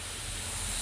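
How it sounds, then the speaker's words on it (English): A short, close burst of Liquid Concepts Activator sprayed from a can onto a hydro dip part, a steady hissing spray lasting under a second. "spray it with the Liquid Concepts Activator again and see what happens"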